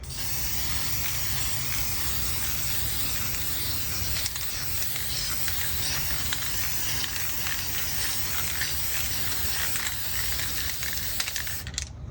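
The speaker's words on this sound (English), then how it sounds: "Make sure you test spray it a couple times before you start to spray." A steady, continuous hiss of a spray gun applying sanding sealer to a maple guitar top runs without pause for several seconds, close and even, cutting off abruptly at the end.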